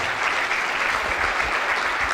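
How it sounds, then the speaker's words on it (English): Brief burst of steady audience applause for panelists at an urban crocodile conservation session, dense clapping filling the room at even loudness. "Can we thank our panelists with a round of applause, please?"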